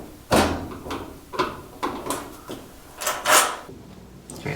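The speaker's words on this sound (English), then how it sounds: "Take the top piece off and move the door aside." Dryer top panel being lifted off and the door moved aside during a bearing repair, a series of about six close, hollow knocks and clunks of sheet metal and plastic.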